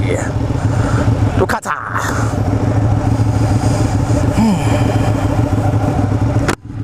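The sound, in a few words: Ducati 959 Panigale motorcycle engine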